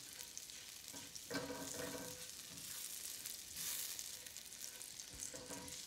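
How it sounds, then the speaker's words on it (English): Garlic sautés in olive oil over lowered heat in a steady, soft frying hiss with a few stirring swishes, close by and rather quiet, with no one speaking. "Garlic sauteing in olive oil."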